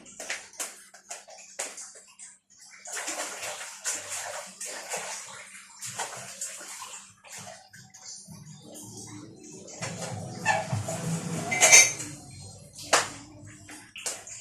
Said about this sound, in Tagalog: Ugasan ko to